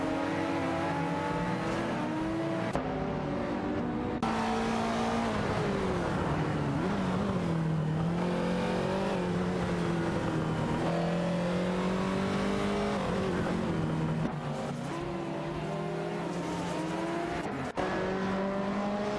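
Race cars in a racing video game, a Dodge Viper GTR 99 and a Chevrolet Corvette, roar continuously under acceleration with engine notes rising and shifting, loud and sustained with brief gear-change breaks.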